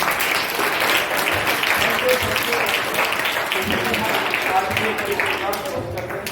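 A room of students claps together at a motivational talk, producing steady, fairly loud applause that holds through the stretch with scattered voices mixed in beneath it.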